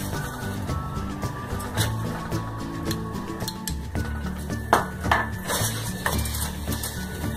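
A utensil stirs jaggery and desiccated coconut powder in a pan, giving soft, irregular metallic scrapes and light clinks at close range over faint steady background tones.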